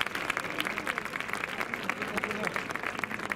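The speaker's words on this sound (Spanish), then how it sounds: "Un aplauso muy grande, ¡ole!" Audience applause at a carnival chirigota performance in Ronda, steady crowd clapping heard from some distance, fairly faint and continuous throughout with no speech over it.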